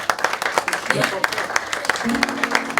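Applause from an audience, a steady patter of many hands clapping at moderate volume, with voices murmuring underneath.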